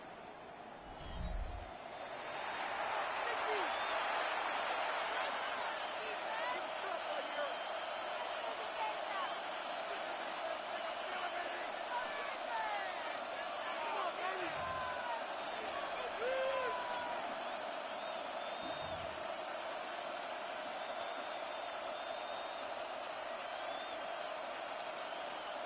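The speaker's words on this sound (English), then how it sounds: "This crowd into it now as we get to third down." Crowd noise fills a stadium in an EA Sports NFL video game: a steady, distant roar of cheering that swells near third down and holds at a low level throughout, with a few faint thuds.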